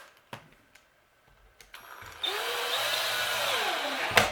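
A power drill drives a screw into the wood of a bluebird house after a few quiet handling taps, its motor whine rising, dipping in pitch as the screw bites, then stopping with a clunk.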